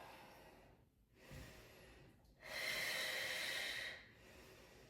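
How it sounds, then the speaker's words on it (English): Slow, deep breathing during a mat Pilates workout: a soft inhale through the nose, then a longer, louder airy exhale through the mouth, close and without talk. "Just breathing deep in through the nose and out through the mouth, taking big belly breaths."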